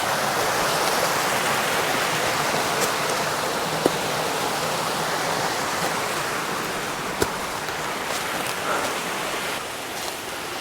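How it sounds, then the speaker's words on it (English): A big, roughly 100-foot waterfall roars in a steady, dense wash of falling water, constant and loud throughout with no voices. "Okay, I see a big waterfall to the right."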